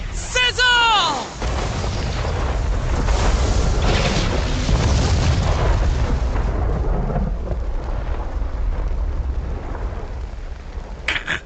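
A loud, sustained rumbling fire-spell explosion from Infinity Strash: Dragon Quest The Adventure of Dai, with crackling bursts, opening with a brief rising magical shimmer and ending with a short sparkle.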